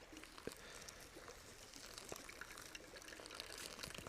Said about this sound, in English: now we just have to pour it in here